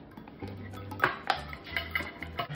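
A spoon scrapes and clinks against a bowl while mayonnaise is mixed into minced garlic, with soft irregular taps and scrapes, quiet and close.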